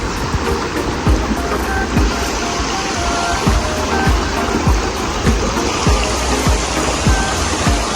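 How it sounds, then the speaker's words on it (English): Steady rushing river water flows close by, a continuous broad wash with faint splashes and gurgles, no voices. "This is the river that I was telling you all about."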